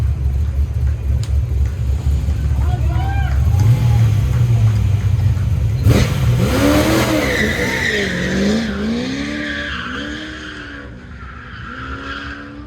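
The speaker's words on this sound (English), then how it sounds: "Brian Hobaugh, the 65 Corvette." A 1965 Corvette tears through an autocross course, its engine roaring loud and close with rising and falling revs, sharp tire squeals and skidding through the turns, the rumble fading slightly toward the end.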